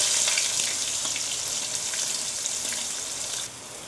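Chopped onion frying in hot oil with cumin and bay leaves, a steady close hiss of sizzling that eases a little toward the end, with no speech.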